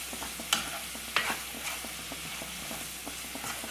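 Onion, garlic and ginger sauté in a pan for a Kerala chicken and Chinese potato roast, with a steady close sizzle, a spoon or spatula stirring and scraping, and a couple of sharper clinks, no talking.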